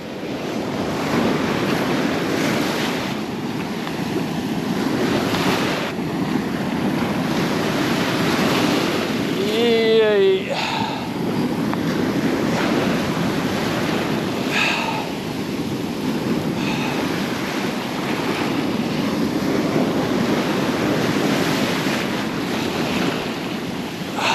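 River waves crashing and rushing around a hiker crossing a river on the Lycian Way, a continuous loud roaring wash with heavy wind buffeting the microphone and a brief high squeak midway.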